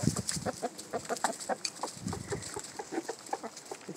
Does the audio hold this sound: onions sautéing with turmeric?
no